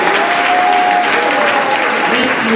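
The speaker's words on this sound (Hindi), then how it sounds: "जोरदार तालियां होनी चाहिए" Strong, steady applause from a school seminar audience at an inter college, dense clapping throughout at close range, with a faint tonal voice or whistle briefly audible in the mix.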